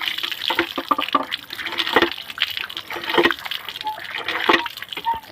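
Red chillies are washed by hand in water, with repeated sloshing splashes and drips in an irregular rhythm, close to the listener, plus faint background sounds.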